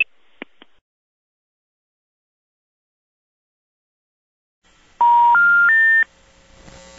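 Touch-tone telephone keypad dialing a number: a few quick faint presses at the start, then after a pause a loud run of three rising DTMF tones in close succession, each held about a third of a second, with no voices.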